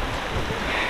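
Heavy rain at Lohagad Fort sends water pouring down in a dense, steady rush of broadband noise, loud and unbroken for under a second.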